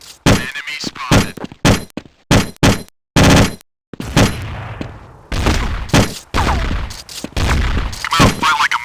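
Rapid gunfire from Counter-Strike rifles cracks out in repeated short bursts and single shots, loud and close, with brief gaps between volleys and a heavier sustained stretch near the end.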